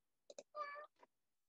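A domestic cat indoors gives two quick clicks, then a single drawn-out meow and a short chirp. The sounds are faint and distant in an otherwise quiet room, with no talking.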